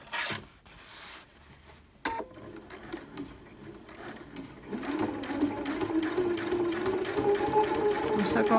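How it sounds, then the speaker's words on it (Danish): Sewing machine stitching a zipper, starting with short bursts and then settling into a steady, loud whirring run of stitches, with soft speech near the start. "Et sting mere, tak."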